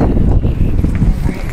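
Strong wind buffets the microphone outdoors at the New Mexico State Capitol during a Moral Monday gathering, a loud continuous low rumble with gusty surges and no clear voices.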